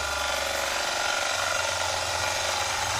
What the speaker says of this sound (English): See how I can quieten the gouge down just by coming in